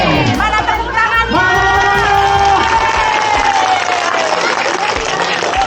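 School students gathered for a health event clap and cheer together, a loud, lively burst of applause with whoops and voices calling out over it.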